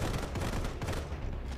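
Shooting in the mobile video game Sniper Fury comes as a dense, loud, continuous burst of gunfire with rapid overlapping reports and no pause across the short stretch.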